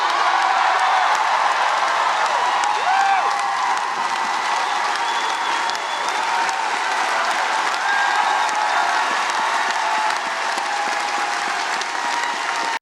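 A crowd at a Harvard commencement rises in a standing ovation for the university president, sustained loud applause with scattered cheers continuing without a break.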